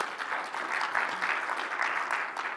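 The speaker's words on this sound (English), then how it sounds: "Give them a round of applause." An audience at a tech conference talk on continuous deployment claps for recognised attendees, a steady moderately loud crowd applause that swells slightly and holds evenly through the short stretch.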